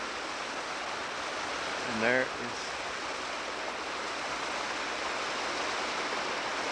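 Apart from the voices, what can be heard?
waterfall in Colorado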